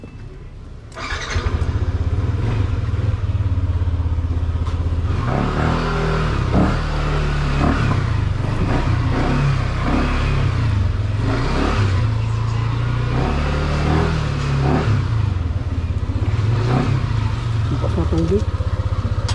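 A motorcycle loaded with gear and a bag rides off along a coastal road, its engine starting up and then running loud and steady close by, with the pitch rising and falling through repeated throttle changes.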